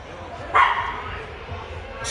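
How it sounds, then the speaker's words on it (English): A dog lets out a sharp, close bark over the steady murmur of a televised football broadcast playing in a room. "Shut up, you stupid ass dog."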